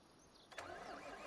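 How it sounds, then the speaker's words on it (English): A tractor engine in the video game Farming Simulator 25 turns over and catches after a quiet moment, then settles into a steady mid-pitched running rumble. "could get this tractor here working on ploughing the fields up"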